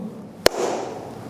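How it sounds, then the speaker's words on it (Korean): One crisp hand clap snaps out sharply against quiet room noise, leaving a brief reverberant tail behind it. "박수 치면 이런 소리 나요, 안 나요?"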